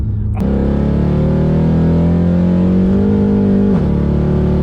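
A tuned 540 bhp Mercedes C63 AMG engine revs hard and climbs steadily in pitch with brief wheel slip, close and loud, with a brief shift near the end as it keeps accelerating.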